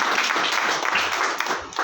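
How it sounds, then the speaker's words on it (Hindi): Indoor audience at a business plan presentation claps for invited guests, a brisk, dense burst of many hands that stays steady, then thins slightly toward the end. "कुशवाहा सर, शुक्ला जी और यासीन सर के लिए एक बार जोरदार तालियां होनी चाहिए।"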